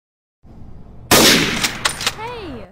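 A toy bucket gun fires with an abrupt loud burst after a brief quiet lead-in, followed by a few sharp cracks and a wobbly whistling tail, close and alone.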